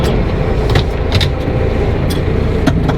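A farm tractor's engine runs steadily, ready to head out and spread fertiliser, with a dense, continuous rumble and a few faint clicks and knocks over it.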